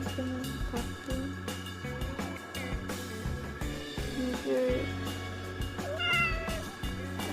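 A cat meows and chatters at birds in a long run of repeated, close, insistent calls with rising and falling pitch, and a voice talks faintly underneath now and then.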